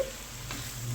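Small kechki fish sizzle softly in hot oil as they are stirred in a pan, a brief low hiss with a faint scrape of the spoon.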